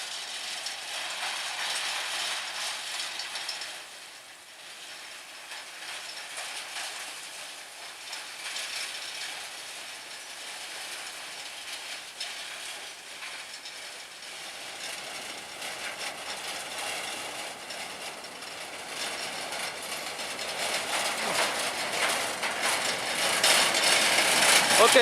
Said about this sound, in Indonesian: sudah tampak di depan sana lokomotif Hokuriku nomor 12 yang berdinas saat ini